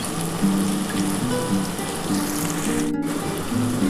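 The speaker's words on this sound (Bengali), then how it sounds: "আমি এর মধ্যে সামান্য একটু জল দিয়ে ঢেলে দেবো।" Water is poured into a cooking pot holding tomato and mutton, a steady close running splash that continues evenly for a few seconds.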